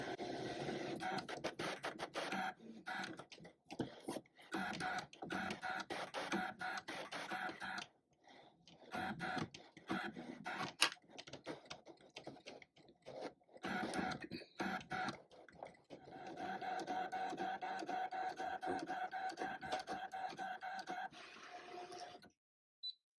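Brother ScanNCut cutting machine drawing with a pen on card, giving bursts of whirring motor movement and scratchy pen strokes broken by short pauses and stops, fairly quiet and close, with no talking.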